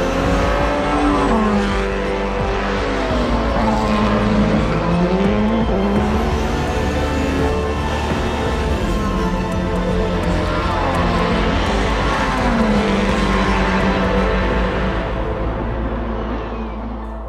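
A Porsche V4 Le Mans race car engine howls loud and continuous, its pitch sweeping up and down through gear changes, with faint crowd noise beneath.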